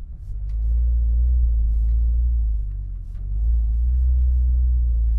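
Porsche 911 Dakar crossing bumpy dunes on Pirelli Scorpion tyres, a deep steady engine and road rumble heard from inside the cabin that dips briefly and then swells again.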